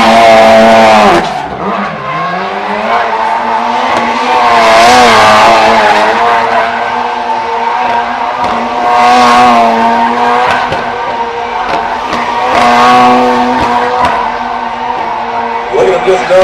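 A 650 horsepower 2011 Ford Fiesta rally car roars loudly with rising and falling engine pitch and tire squeal as it skids, with a crowd faintly present and a voice talking over it.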